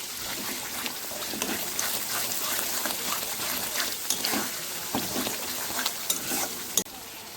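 Masala with fried onions and potato for a catla fish curry sizzles and crackles in a pan, a continuous close frying hiss with scattered stirring clicks and no voices.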